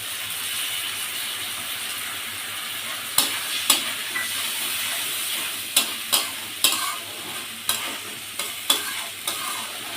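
Spice paste for a fish kofta curry frying in a pan as a premixed sauce of sugar, soy sauce, tomato sauce and lemon goes in, a steady close sizzle with sharp utensil scrapes and clicks while stirring.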